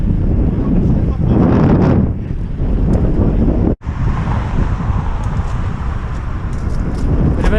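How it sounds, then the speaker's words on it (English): Strong wind buffets a microphone on a mountain bike ride on trails through trees, a loud, rumbling roar that drops out briefly for a moment, and muffled voices are faintly mixed in. "Too windy."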